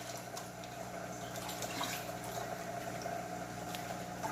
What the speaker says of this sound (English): So calimagic going in.